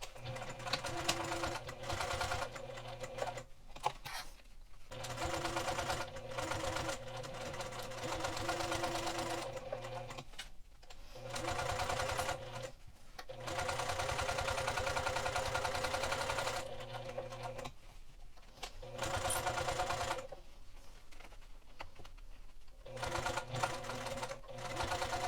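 A sewing machine stitches a pencil zipper pouch in several bursts of rapid, even needle chatter, separated by brief pauses where the fabric is repositioned.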